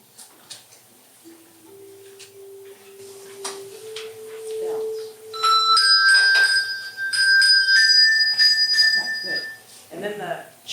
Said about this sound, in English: We'll start with the bass chimes, the chimes, and then the bells will take over